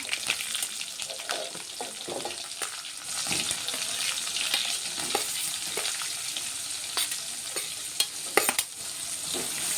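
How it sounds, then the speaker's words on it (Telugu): Chopped onions fry with dried red chilies in a pan, a steady close sizzle broken by scraping stirs and small crackles, with no one talking. "ఇప్పుడు ఇందులో కట్ చేసుకున్న ఉల్లిగడ్డలు వేసుకుంటా."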